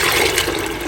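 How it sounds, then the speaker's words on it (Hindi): Water pouring steadily into a cooking pot for curry pakora, a continuous loud splashing rush with no talking. "डबल ही साइज़ का मैं इसमें पानी शामिल कर रही हूँ"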